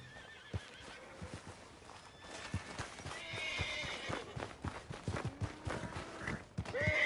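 Horse neighing with clip-clop hoofbeats walking nearby, plus whinnies and snorts over a busy outdoor ambience in the video game Red Dead Redemption 2.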